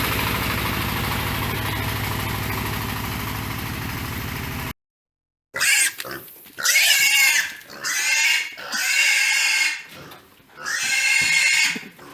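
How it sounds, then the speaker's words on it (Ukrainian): Pigs squeal loudly in repeated long shrieks after a vehicle engine rumble cuts off, the cries rising and falling close by as they arrive by truck. "Їдуть наші свинки."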